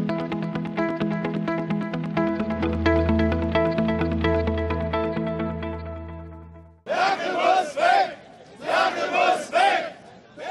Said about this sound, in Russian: «Путин, помоги нам!» – скандирует толпа.